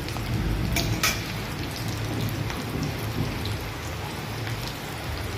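Fish roe frying in a pan, a steady close hiss and crackle like rain, with a couple of sharper pops near the start, no voices.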